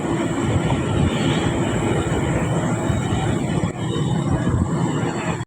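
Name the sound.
freight train led by GMU 30 locomotive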